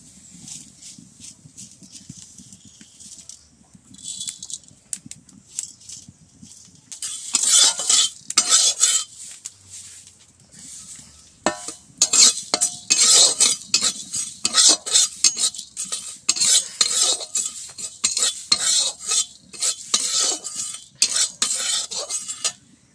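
Cumin and whole tempering spices sizzle and crackle in a hot karai, with frequent metal scraping and stirring clatter, growing louder and busier partway through; no voices.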